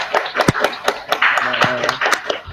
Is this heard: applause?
yes